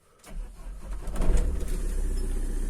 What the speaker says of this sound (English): so let's start the car